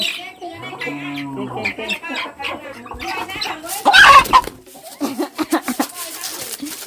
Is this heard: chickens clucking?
yes